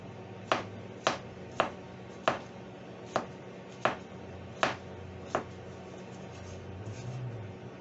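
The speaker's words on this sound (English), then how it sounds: "be very, very careful when chopping your shrooms." A knife chops through mushrooms on a cutting board in a home kitchen while mushroom gravy is being prepared, eight crisp, close single strokes at an uneven, unhurried pace, followed by a soft shuffle, with no talking.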